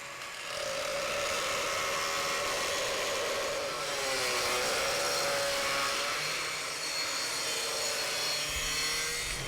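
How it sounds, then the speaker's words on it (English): A hard grinding wheel grinds out a weld root on stainless steel or copper nickel, a steady loud abrasive whine with a wavering pitch that dips midway and keeps running. "We're going to grind that out now with a hard wheel"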